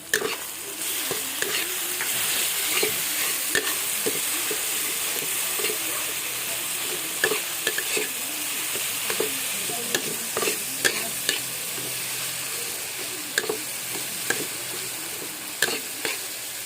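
Food sizzling in a hot frying pan while a spoon scrapes and stirs it, giving steady frying hiss broken by repeated soft clinks and scrapes, close up, with no talking.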